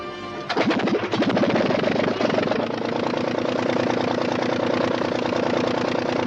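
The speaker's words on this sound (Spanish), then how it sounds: "El motor marcha a pedir de boca." The Anzani engine of a Blériot aircraft catches and runs, building after a brief start into a loud, continuous, rough mechanical drone that stays steady and close throughout.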